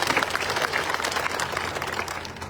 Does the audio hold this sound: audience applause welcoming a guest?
yes